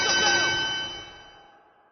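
A wrestling ring bell in WWE 2K25 rings out once with a bright metallic clang, close and loud, then decays over about two seconds.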